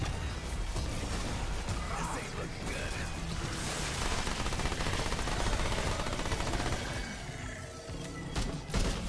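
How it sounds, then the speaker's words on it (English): An SMG blazing away in the video game Remnant 2, a dense continuous stream of rapid shots mixed with impacts and crashes, loud and unbroken throughout with brief quieter dips near the end. "SMG goes ham right now."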